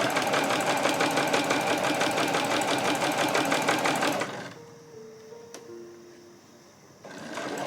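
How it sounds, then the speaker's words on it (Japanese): Sewing machine stitching a seam on a tucked fabric pouch, a rapid even mechanical rattle for about four seconds, then stopping into quiet with faint clicks before briefly starting again. "そのまま下縫っていきます"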